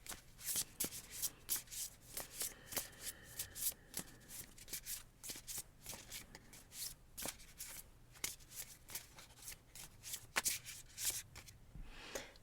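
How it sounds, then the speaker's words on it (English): A Wild Unknown Animal Spirit card deck is shuffled by hand close up, with repeated riffling and rubbing bursts in a quick, uneven rhythm and no talking. "shuffle these cards"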